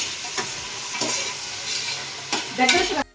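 Chicken fry sizzles steadily in a pan while a spoon stirs and scrapes through it in a few distinct strokes, close up, with no talking.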